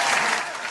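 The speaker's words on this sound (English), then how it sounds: "Let's clap it up." Studio audience at a live talk show breaks into steady, close applause, a dense wash of clapping at even loudness throughout the short moment.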